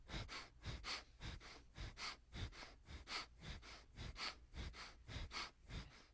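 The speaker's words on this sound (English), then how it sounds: "It means you have to breathe twice as fast." Quick, rhythmic breaths repeated steadily, each one a sharp double-time inhale at roughly twice the normal rate, close and fairly loud with no talking.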